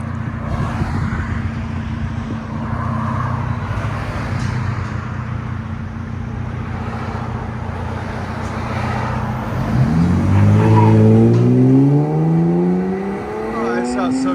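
A 2022 RAM 1500 Tradesman with a 3.6L V6, Flowmaster Super 44 muffler, rear and resonator delete and a 5-inch black tip, rumbling at a steady idle, then revving up loudly near the end, with a voice heard faintly over it.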